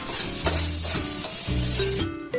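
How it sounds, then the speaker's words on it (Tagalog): Minced onions, garlic and ginger sauté in hot olive oil with a loud, bright sizzle, broken by a few spatula scrapes and stirs, close up before the hiss suddenly drops away at the end. "In a hot pan, pour olive oil and saute the minced onions, garlic, and ginger."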